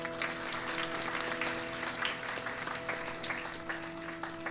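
Guests at a Vedic wedding ceremony applaud the bride and groom, with scattered, moderately quiet clapping over a steady electrical hum, the claps irregular and fairly sparse rather than a full roaring ovation.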